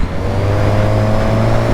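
A 2023 Suzuki GSX-S 1000 motorcycle, running the 1000 cc engine from the 2005 GSX-R 1000, gives a loud, steady engine drone close by with a slight rise in pitch, and no talk.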